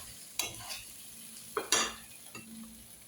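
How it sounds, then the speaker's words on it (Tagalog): A whole hotdog fries in a pan with a soft background sizzle, punctuated by a few scraping stirs and clinks of a utensil against the pan. "Yung hotdog, piniprito ko lang."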